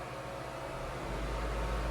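The air assist compressor and exhaust fan of an HT-460 laser cutter run together in a steady, dense broadband whoosh with a low hum underneath, continuous and close.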